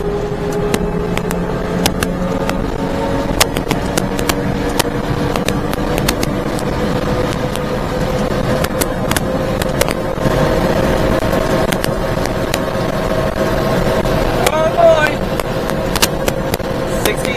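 Mini truck engine at wide open throttle during a race against a Tonka truck, a steady droning roar with rising tones running the whole time under occasional talk.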